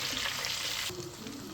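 Chicken pieces, including breast, frying in hot oil in a home kitchen, a loud dense crackle and bubbling that eases partway through to a lower, calmer sizzle, with no talk.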